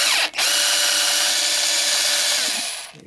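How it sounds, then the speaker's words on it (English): A battery electric drill fitted with a T25 Torx bit whines steadily and loudly as it backs screws out of a GE VHF two-way radio, with a brief stutter near the start before the motor spins down at the end. "put a T25 bit on my electric drill, battery drill"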